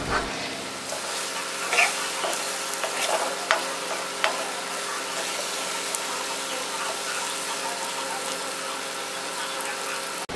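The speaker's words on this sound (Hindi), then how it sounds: "अच्छे तरीके से मिक्स कर देंगे। 2 से 3 मिनट पकाएंगे।" An egg and onion mixture cooks in a pan with steady frying and sizzle, while stirring scrapes and taps a few times early on under a continuous close hiss.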